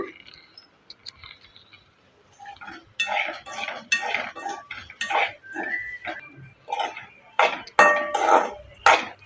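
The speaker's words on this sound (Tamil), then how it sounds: "இப்போ வாழைக்காய்க்கு தேவையான உப்பு சேர்த்து கிண்டி விட்டுக்குங்க" A spatula stirs chopped raw banana and salt in a pan for poriyal, making a run of close, irregular metallic scrapes and clinks that grow busier and louder toward the end.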